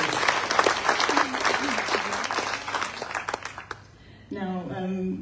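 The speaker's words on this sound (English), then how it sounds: "If everyone could please give Ronit a round of applause for sharing her" Audience applause at an evening talk on Jewish identities and political ideologies in Newcastle, a steady burst of clapping from a seated crowd lasting about four seconds before a voice begins speaking.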